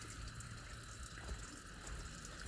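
Water draining out of a Taylor wood boiler and running down a hill outside, a faint continuous trickling rush.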